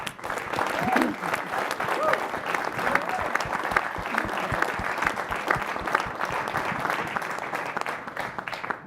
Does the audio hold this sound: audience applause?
yes